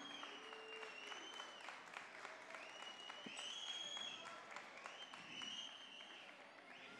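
Applause at a Leones del Escogido press conference as the team's new 2016-2017 jerseys are presented, a steady crowd clapping at moderate level for the whole stretch with faint voices and whistles mixed in.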